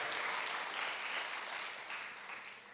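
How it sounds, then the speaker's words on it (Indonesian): A church congregation applauds during a worship service in Surabaya, a steady dense wash of many hands clapping that fills the whole stretch at fairly even loudness, easing slightly toward the end. "Berikan tepuk tangan buat Allah."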